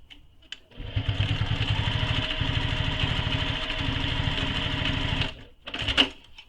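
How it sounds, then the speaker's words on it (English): A sewing machine runs a second row of stitching in one steady, even whir for about five seconds, close and fairly loud, with brief clicks before and after the run. "I'm going to do a second row of stitching."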